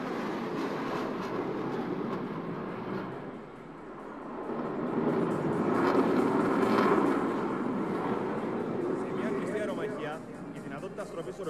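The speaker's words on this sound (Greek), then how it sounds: "Δείτε τώρα, καθώς ο σμηνεγός Καραχάλιος σας δείχνει πόσο εξαιρετικό είναι το F-16 σε μια στροφή 9G" An F-16 fighter jet pulls a 9G turn during the Zeus air show display at Thessaloniki, a loud, broad roaring rumble that swells and slowly fades beneath a public-address announcer.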